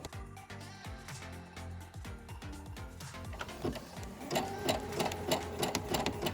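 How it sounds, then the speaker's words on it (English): Zigzag stitching along the inner V edge of fabric ties for a ruffle blouse, with a home sewing machine humming and clicking at a steady, rapid rhythm that runs unbroken and grows a little louder near the end. "my machine is set to a zigzag stitch and I'm gonna sew right on the edge of that inner V of my ties"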